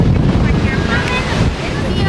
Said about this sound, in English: I hope the wind doesn't sound too loud.